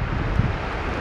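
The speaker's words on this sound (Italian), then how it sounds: "qua c'è un vento che non finisce più" Strong wind roars during a heavy rainstorm in a Milan street, a loud continuous buffeting rush with a brief thump near the start.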